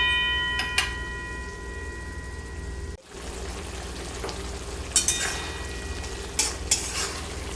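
Spices and vegetables frying in a pan make a continuous sizzle with stirring, plus sharp scraping clinks of a utensil against the pan at intervals.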